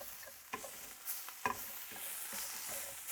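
Impossible Beef plant-based ground meat frying in a pan and starting to stick, a soft continuous sizzle broken by a few scraping stirs, close and fairly quiet with no talking.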